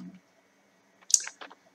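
Computer mouse clicking the New Folder option, a quiet room broken by a couple of sharp, close clicks in quick succession near the end.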